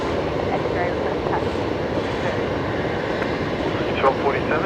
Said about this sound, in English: Next departure, Qantas 1909, heading off to Canberra this afternoon. The Alliance liveried Embraer 190.